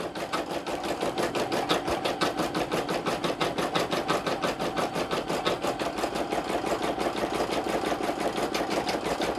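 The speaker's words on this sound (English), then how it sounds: "Just let that finish stitching out." A Brother PE 770 embroidery machine sews a satin stitch with a steady, fast, even mechanical clatter that runs without a break for the whole stretch, close up and with no voices.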